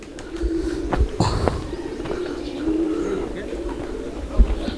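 Several pigeons coo in soft, low, throaty calls close by in a village in Bastar, India, with occasional clicks and knocks in the background.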